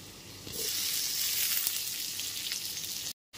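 Chopped tomato pieces dropped into potatoes frying over a medium gas flame for an okra and potato curry, setting off a sudden, loud, steady sizzle that holds close and continuous.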